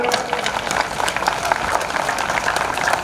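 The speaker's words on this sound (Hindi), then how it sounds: "सब लोग खड़े होकर एक बार जोरदार तालियों से इनवाइट करो" A standing crowd giving hearty applause to welcome Tyagi ji, a loud, close clatter of many hands clapping unevenly over a few seconds.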